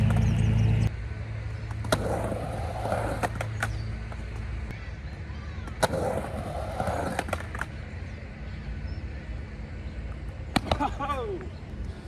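Skateboard dropping in on a ramp and grinding into axle stalls on the coping, with a few sharp clacks and thuds over steady rolling wheel noise, plus a burst of board clatter near the end.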